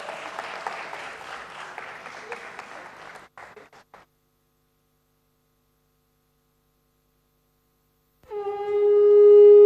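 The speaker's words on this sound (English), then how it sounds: "Let's welcome all our dignitaries with a round of applause." Audience applause welcomes dignitaries at a stock exchange listing ceremony, a moderate crowd clapping for about four seconds before cutting to silence, then a sustained chanted or sung tone begins.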